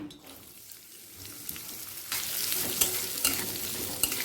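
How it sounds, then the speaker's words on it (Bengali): Beans frying in oil over a high flame for fried rice, heard as a steady close sizzle that builds partway through, with sharp scraping clicks of stirring near the end. "বিনটা হাই ফ্লেমে এক মিনিট ভেজে নেব"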